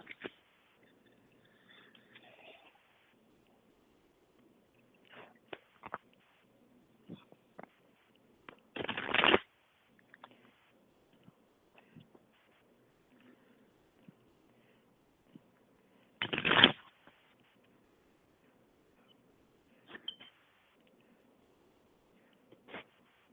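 Two loud, brief riffling bursts of shuffled playing cards stand out against a quiet room, with faint soft handling sounds in between.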